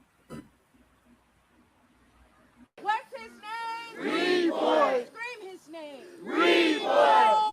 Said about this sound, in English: A crowd gathering, feeling strong emotions